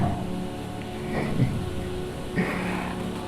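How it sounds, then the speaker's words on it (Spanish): Heavy rain pours down steadily in Venezuela during a power outage, a dense continuous hiss with a couple of faint muffled thumps and no clear voices. "está cayendo un palo de agua. Lloviendo durísimo."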